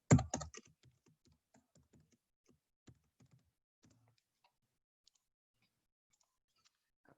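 Computer keyboard typing while entering comments into chromatography report software: a quick cluster of clicks at the start, then sparse, quiet individual keystrokes spread across several seconds in a silent room.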